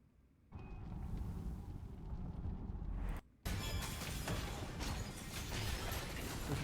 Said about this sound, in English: she'll detonate the orbs on her target, causing an explosion